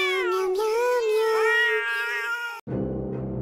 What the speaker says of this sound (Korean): 고양이와 말할 수 있는 사람 있나요? 그들이 무엇에 대해 논쟁하는지 알고 싶은데요.